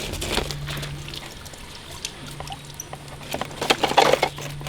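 Water pours and trickles quietly from a hose or outlet, a faint, steady dribble that grows into louder patter and splashing toward the end, with a low hum underneath.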